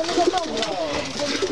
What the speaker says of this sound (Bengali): এটা জালালি কবুতর